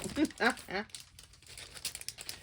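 Thin plastic bag packaging from a hauled order being handled up close, a few quick crinkling rustles followed by softer scattered crackles, with a voice heard briefly.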